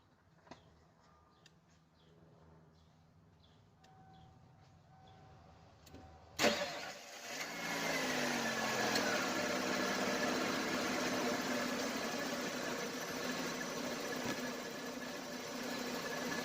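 A truck engine cranks and catches about six seconds in, then settles into a steady, loud idle that runs to the end after a quiet stretch of faint handling noises.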